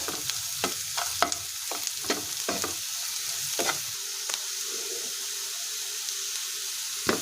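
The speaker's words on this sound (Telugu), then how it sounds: "కారం వేసుకొని మిక్స్ చేసుకోవాలి" Chili powder is stirred into frying onions in a pan, with a soft continuous sizzle and a run of sharp spoon scrapes and taps early on, then a quieter steady fry.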